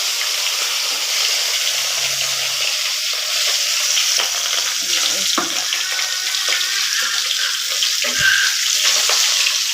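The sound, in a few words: morma fish frying in hot oil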